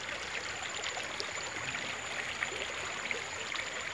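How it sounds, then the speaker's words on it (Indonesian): A clear river flowing behind a house, heard as a steady, fairly close wash of running water with fine trickling and splashing detail and no voices. "Ternyata sungai di belakang rumah saya itu indah sekali ternyata."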